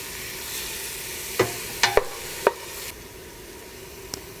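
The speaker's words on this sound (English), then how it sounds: "you want to cook it until it's soft and the onion is translucent" Onion sautés in a pot for roasted butternut squash soup, a steady close sizzle broken by a few sharp spoon clicks and scrapes against the pot, no voices.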